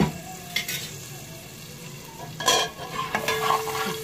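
Spices, fennel powder, cardamom powder, salt and orange peel are stirred in a pan for sweet jaggery rice, with a few scraping strokes and soft sizzling between quieter pauses.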